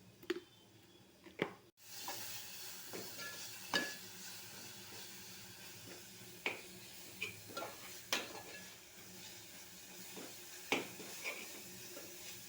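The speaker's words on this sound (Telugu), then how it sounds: "మిక్స్ చేసుకొని కొంచెం సేపు ఇట్లా ఫ్రై అవ్వనివ్వండి ఆయిల్లో" Spices for a simple paneer curry, with turmeric and salt, frying in oil on medium flame while being mixed: a soft continuous sizzle punctuated by repeated sharp clinks and scrapes of a utensil against the pan.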